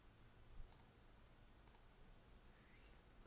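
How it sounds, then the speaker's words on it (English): A computer mouse clicking while working in a spreadsheet, two sharp faint clicks about a second apart over a quiet background, with no one speaking. "I'm going to click on Add."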